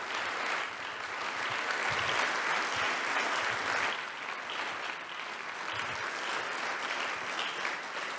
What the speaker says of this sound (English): a round of applause for Ms. Ressa, Ms. Whittaker, and of course Ms.